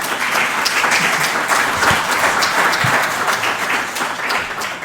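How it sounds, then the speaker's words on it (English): Audience applause for a presenter at a conference on enterprise SDMX implementation, steady crowded clapping at close range, loud and even from start to finish with no speech. "Let's give him a round of applause."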